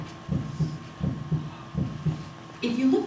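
A heart beats inside an animated illustration in four even, soft low thumps, each thump a double beat, fairly close and quiet, before a brief tonal sound swells at the end.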